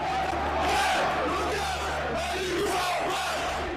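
A crowd of protesters shouts and yells loudly as police push them back, a dense continuous roar of voices with no pause.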